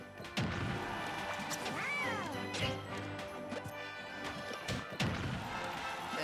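Isabelle's smash attacks in Super Smash Bros: several loud whacks and crashes land a few seconds apart over a busy match background.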